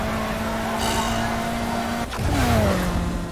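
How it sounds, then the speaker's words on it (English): A car in Need for Speed Heat hits its nitrous boost on the final stretch after a jump, the engine note holding steady then surging louder with a sharp shift in pitch, close and continuous. "And the nitrous for the win."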